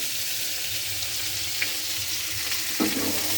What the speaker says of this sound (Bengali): দিয়ে আমি একটু নাড়াচাড়া করে নিচ্ছি।